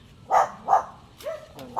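A dog gives several short, sharp barks with gaps between them, fairly close and moderately loud, with no talk over them.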